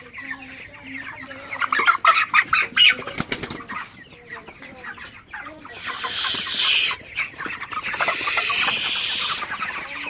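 Broiler chickens on a farm, around 33 days old and over two kilograms each, cluck and squawk in repeated bursts, with wing flapping and a louder agitated flurry of noise in the second half; no one speaks.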